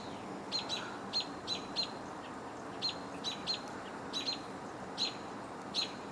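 American robins call repeatedly near hawks in an outdoor campus setting, sharp bright chirps coming in irregular bursts over faint background hum.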